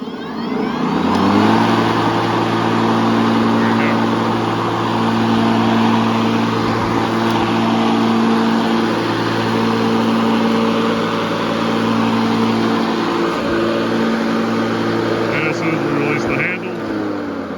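A Dewalt 20V cordless battery lawn mower runs with a steady, loud electric motor whine and blade hum that holds for the whole stretch before it shuts off.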